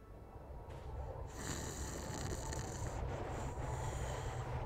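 A person imitates snoring with the voice, producing a steady, continuous rasping drone for several seconds at close range, with no other talk.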